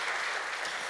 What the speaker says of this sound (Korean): 박수로 우리 격려하도록 그렇게 하겠습니다